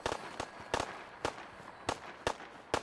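Gunfire in the video game The Good King: about six sharp, distant cracks at irregular intervals, crisp, moderately faint reports over a low background.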